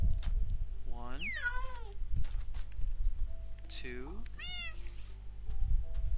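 Cats in Minecraft meow repeatedly in rising and falling cries, two clear calls at first and then a brighter pair later. They sound close, over a low steady background, and a voice briefly counts aloud.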